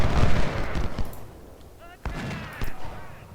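12-pounder artillery in the American Civil War battle game Ultimate General: Civil War, several heavy booming cannon shots with rumbling gunfire, someone speaking over them.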